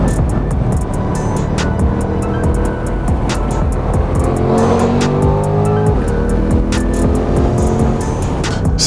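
A 2020 Corvette C8 lapping the Monticello Motor Club race track, its engine roaring loud and steady close by through a decreasing-radius turn, with pitch shifts as it brakes and accelerates and brief tire squeal.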